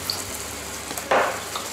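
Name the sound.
frying cheese schnitzels in a pan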